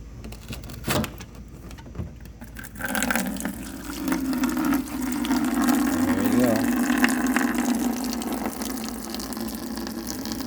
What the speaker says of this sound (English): I'm going to drain it into a bucket.